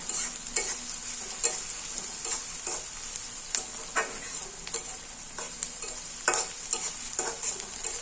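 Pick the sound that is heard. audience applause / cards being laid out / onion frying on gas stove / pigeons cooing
onion frying on gas stove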